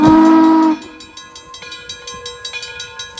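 Southern Pacific 2475 steam locomotive sounds a loud, sustained whistle that cuts off sharply, followed by a rhythmic, repeating clank of the train moving along the track.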